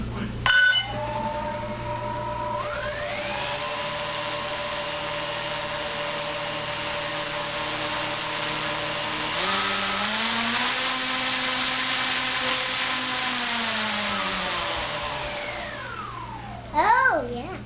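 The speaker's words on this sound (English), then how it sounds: "This is just a quick demonstration to show the oomph that these motors have." Electric motors on a twin-engine P-38 model airplane wind up from idle, hold a steady high whine, then spool down, close and loud, with the pitch rising and falling across each run.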